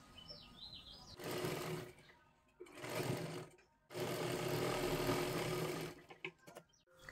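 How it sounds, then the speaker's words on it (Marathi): A sewing machine stitches a katori blouse in three runs of steady, close whirring separated by short pauses, with faint bird chirps in the background at the start. "एक शिलाई मारून घ्यायची आहे"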